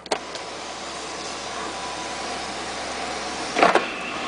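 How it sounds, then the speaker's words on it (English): The electric shade of a 2009 Nissan Maxima SV moonroof retracts with a steady, fairly quiet motor whine lasting several seconds, ending in a brief clunk as it stops. "we're gonna go ahead and open the shade now"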